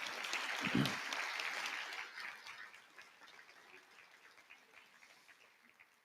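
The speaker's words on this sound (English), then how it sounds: "So give yourselves an applause for dealing with an educator." Applause for educators at an awards ceremony swells into a burst of clapping from a large audience, then gradually thins and fades over several seconds, with a brief spoken phrase near the start.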